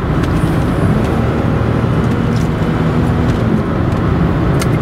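A 1988 Mercedes-Benz 300 SE W126 accelerates hard on kickdown, its engine and road noise forming a loud, steady drone from inside the cabin with no talk.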